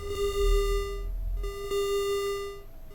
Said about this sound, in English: Those alarms are just the K-leg alarms for me opening airlocks